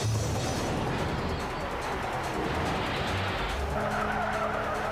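Tires screech continuously in a 1995 PlayStation racing video game, a loud, steady skidding squeal over a droning car engine with no pauses.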